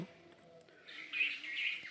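Small birds being fed bread in the morning chirp in a faint, quick cluster of high calls that grows busier over two seconds, heard at a distance.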